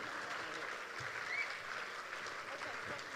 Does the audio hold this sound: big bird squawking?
no